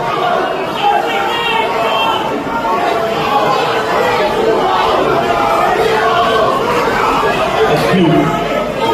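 A small crowd at a boxing event chatters and shouts in a dense, continuous babble, loud and close throughout.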